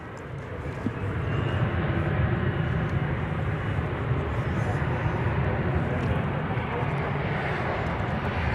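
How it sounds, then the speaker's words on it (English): An airliner on flight 786 from Austin, Texas arriving at DFW Airport, a steady low jet roar that swells within the first second and stays constant, with talking heard over it. "Here comes Flight 786 from Austin, Texas."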